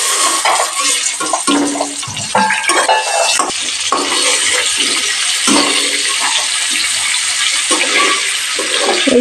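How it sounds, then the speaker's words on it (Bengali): Snakehead fish head dropped into hot oil, a loud continuous sizzle with spattering and bursts of crackling, plus occasional clinks of a utensil against the pan. "মাছ ছেড়ে দেবো। মাছের মাথা প্রথমে অ্যাড করে দিচ্ছি।"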